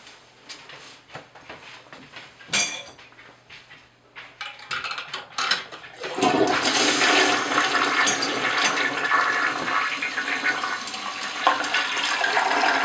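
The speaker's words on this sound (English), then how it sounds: "But I'm getting ready to flush them in a minute." A toilet flushes loudly after a few seconds of clinks and small handling sounds, the rushing water swelling and continuing steadily to the end.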